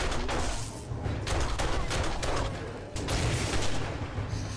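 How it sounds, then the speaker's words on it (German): Dense gunfire in the survival game 7 Days to Die during a blood moon night with a power outage, rapid overlapping shots and booms forming a continuous loud barrage with no talk over it. "Wir gönnen uns mal ein paar Schuss."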